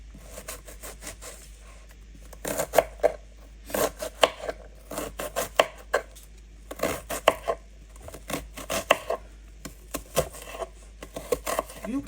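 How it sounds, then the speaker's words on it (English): A knife chops onions into small cubes on a board, sharp rhythmic knocks in quick bursts separated by short pauses, close and clear with no talk. "what I'm going to chop is my onions. I'll chop it up in small cubes."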